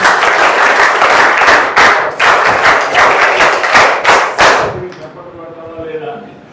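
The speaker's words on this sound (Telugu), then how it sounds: "చప్పట్లు కొట్టిండ్రా." A room full of children clapping loudly and close, a dense rapid patter that carries on for several seconds and then fades out, leaving faint voices behind.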